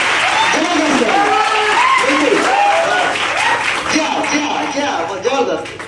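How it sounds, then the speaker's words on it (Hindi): Audience applause at a business motivational gathering, clapping heard under loud overlapping voices and cheering, fairly close, with a few louder bursts toward the end. "एक बार शानदार तालियां अपने लिए जबरदस्त कराइए उसको"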